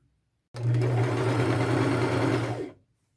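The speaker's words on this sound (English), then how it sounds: "Now I'm going to take it to my sewing machine and double stitch that." A sewing machine double-stitches a small-stitch seam for about two seconds, a continuous mechanical whir with a low motor hum, starting and stopping abruptly.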